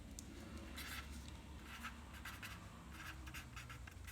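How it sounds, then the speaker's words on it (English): Chalk or marker scratches across a board while the words osmotic pressure are written out, in soft rhythmic strokes with short pauses between them, set against a steady low background hum. "So I will write down osmotic pressure."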